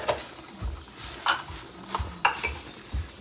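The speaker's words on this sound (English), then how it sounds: "Just want to keep it stirred." A spoon stirs creamy taco spaghetti sauce in a pan on the stove, giving soft, irregular scraping and sloshing strokes with faint sizzling beneath, close and fairly quiet.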